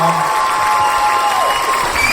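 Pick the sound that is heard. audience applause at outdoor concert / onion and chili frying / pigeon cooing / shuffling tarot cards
audience applause at outdoor concert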